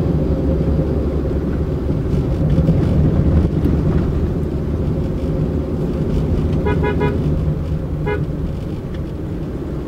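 A 1998 Toyota Sprinter EE111 on a drive from Chittagong toward Khagrachhari gives a steady, loud engine and road rumble throughout, with a couple of brief horn toots near the end.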